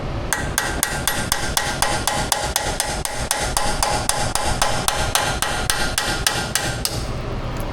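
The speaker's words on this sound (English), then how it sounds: "Little tappy, tappy, tap action." Rapid steady hammer taps on a blown axle seal of a Ford with the 2.7 EcoBoost engine, dozens of sharp metallic strikes in quick even rhythm, close and loud.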